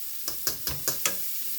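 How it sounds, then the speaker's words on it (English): Peppers, onions, scallions and garlic stir-fried in butter in a skillet, a soft steady sizzle broken by five quick, evenly spaced scrapes of a utensil against the pan. "And just stir fry that for a minute"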